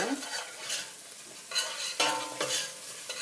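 Vegetables in a pot for a creamy potato and garlic soup are stirred with bay leaves, thyme and garlic powder, giving quick scraping strokes over a soft sizzle, close and fairly loud.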